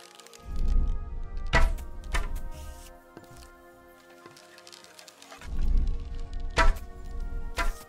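Arrows striking an archery target in Kingdom Come: Deliverance II, two sharp wooden thunks several seconds apart, each preceded by a low rustling draw, with faint ambient noise between.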